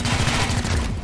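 Rapid gunfire bursts from the XCOM Chimera Squad video game, a dense crackling fusillade that runs continuously and loudly across the whole moment with no voices.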